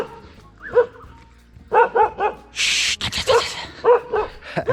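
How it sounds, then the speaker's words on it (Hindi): A dog named Kalu barks repeatedly outdoors in a hilly area, loud, close, sharp yaps coming in short bursts with brief pauses between them. "इसने क्या देख लिया जो ये इतना ज़्यादा भौंक रहा है।"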